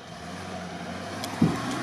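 A 4-litre six-cylinder car engine in a racing video game gives a steady, close drone that holds even, with one brief thump near the end.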